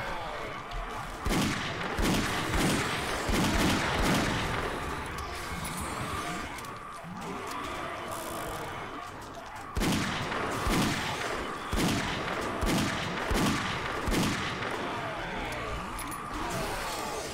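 Magnum pistol fire at zombies in the game 7 Days to Die, sharp shots in two bursts of about half a dozen evenly spaced reports each, separated by a quieter stretch.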